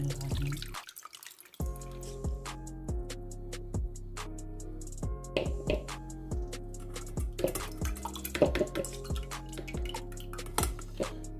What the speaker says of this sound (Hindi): ये देखिए इस छन्नी की मदद से हम इसको अच्छे से छान लेंगे